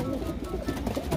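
Racing pigeons in a crowded loft of Belgian and Dutch birds coo in a low, continuous murmur, several birds overlapping close by with no talk.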